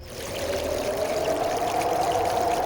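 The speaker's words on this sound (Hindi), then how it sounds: "बस हवा और पानी की आवाज" Steady moving water rushes and pours alongside a soft wind, a continuous mid-level flow with no voices and no breaks.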